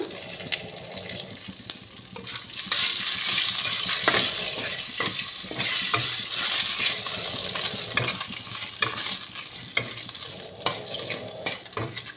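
Crushed garam masala and a dried red chili sizzle in hot oil with bay leaf, a loud, continuous fry with frequent stirring scrapes and clatter close up.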